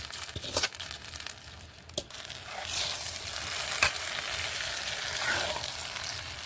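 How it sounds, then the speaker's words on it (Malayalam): Grated coconut, roasted with mustard seeds and urad dal, crackles in hot oil in a pan for an Onam sadya-style kootu curry; a steady close sizzle with occasional stirring scrapes and taps, no voices. "തേങ്ങ വറുത്തത് ചേർത്ത് കൊടുക്കാം."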